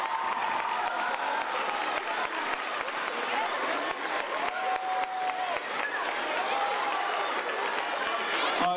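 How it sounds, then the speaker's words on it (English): Audience at a St. Baldrick's Day head-shaving fundraiser event in Lawrence gives sustained, loud applause mixed with cheering and crowd noise, with a few high whoops and whistles rising above the dense clapping throughout. "Give a big round of applause."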